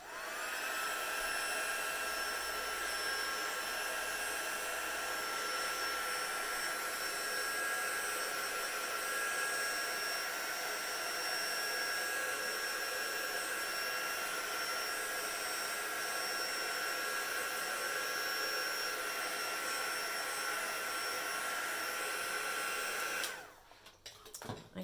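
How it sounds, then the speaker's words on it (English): A heat tool blows continuously and loudly for over twenty seconds, drying a watercolour wash with a steady high-pitched whine and airy roar, then cuts off abruptly near the end. "So I'm using my heat tool."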